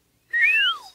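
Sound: cartoon pig whistling

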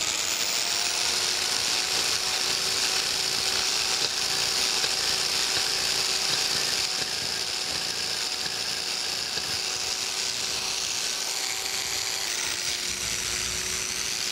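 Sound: hand scraping dovetails on a metal planer clapper box

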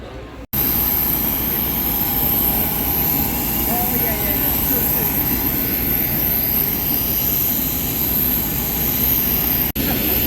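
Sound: airport runway jet engine noise

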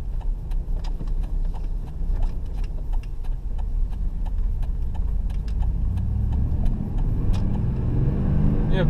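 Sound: car driving at about 35 miles per hour

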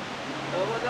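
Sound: Chegem waterfalls in the gorge

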